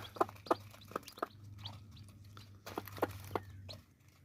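Aseel desi chicks peep in short bright bursts while eating millet as a hen clucks softly nearby, over a steady low hum.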